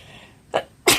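Two sharp sneezes burst out close by in quick succession, the second louder than the first, with no talk in between.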